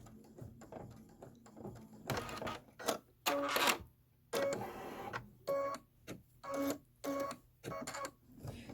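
A Kimberbell embroidery machine sews placement stitches for a foundation of two small fabric squares on a fire station project, giving close, loud bursts of rapid mechanical whirring and clattering, broken by short pauses, with no talking.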